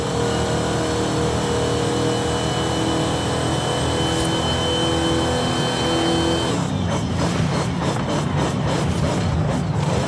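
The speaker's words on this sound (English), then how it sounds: "Get that meaty engine sound out to some street racing." A racing car engine in a street-racing video game roars and revs continuously, loud and close, with the pitch shifting and the rumble turning rougher near the end.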